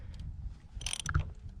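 A ratcheting wrench with a 17 mm socket clicks on a bolt at the rear sprocket of a Yamaha R6, a few quick close mechanical clicks and a small metallic pop, quiet and alone.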